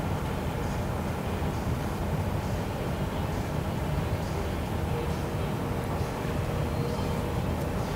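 A 2006 R Vision Trail Lite 252 B+ Class B RV cruising at about 55 to 60 mph on a highway, a constant loud rumble of engine, tyres and wind noise heard from inside the cab.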